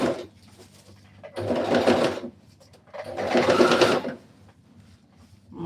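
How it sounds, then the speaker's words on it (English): A sewing machine top stitching a dress made of plastic bags runs in two short, even whirring bursts, close and moderately loud, separated by quiet pauses with faint handling noise. "I'm top stitching. I'm going to take it little by little,"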